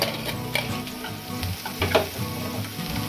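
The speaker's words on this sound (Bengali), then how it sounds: "দিয়ে দেবো পেঁয়াজ কুচি, তারপরে দিয়ে দেবো সব ভেজিটেবলগুলো। বিনস, ক্যাপসিকামগুলো দিয়ে দিলাম" Chopped onion, beans and capsicum sizzle and fry in a hot pan for a veg burger filling, a steady crackling hiss with brief stirring clatters, close and continuous with no talk.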